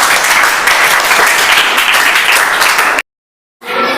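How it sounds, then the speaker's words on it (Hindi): Steady applause from a classroom audience at a coaching-class general knowledge quiz, dense clapping for about three seconds before cutting off abruptly, followed by a short silence and a faint return of room noise. "ताली बजाइए"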